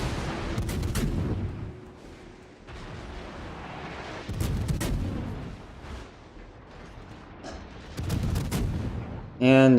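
Heavy naval gunfire from World of Warships ranked battle, cruiser Worcester and battleships Zao and Yamato, several loud booming salvos at roughly 0–1, 4.5 and 8 seconds over rumbling background and faint talk.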